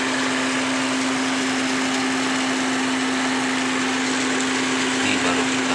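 A coffee grinding machine, being fixed for dirty, uneven grinding output, drones continuously while grinding coffee, with a strong, steady motor hum under a dense, even rushing noise that stays close and loud throughout.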